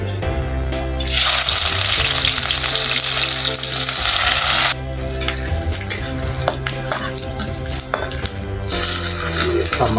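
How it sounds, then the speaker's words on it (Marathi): Onion with coriander frying in hot oil in a home kitchen, a steady loud sizzle running throughout with stirring clatter and brief dips as ingredients go in. "तेल करपाय लागलं मस्त पैकी कोथमीर टाकूया आता कांदा टमाटर आधी कांदा टाकूया"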